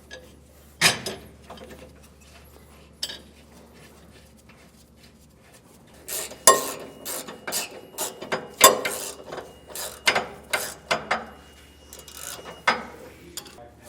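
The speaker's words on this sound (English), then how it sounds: "And we'll just keep snugging them down." A ratchet snugs down bolts while Air Lift LoadLifter 5000 Ultimate air helper springs go onto a 2020 vehicle. A single early click is followed by quiet, then a run of close, sharp ratcheting bursts, with no talk.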